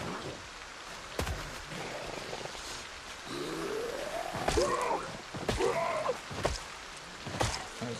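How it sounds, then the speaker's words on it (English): Rain falls steadily in the video game Project Zomboid, a soft continuous hiss broken by sharp clicks and low, drawn-out groaning sounds. "It's actually good that it's raining"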